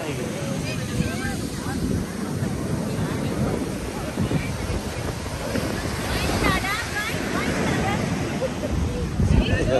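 Strong waves break on the beach at Praia do Toque Toque Grande on São Paulo's north coast, a steady roar of surf and wind buffeting the microphone for the full stretch, with voices faintly mixed in.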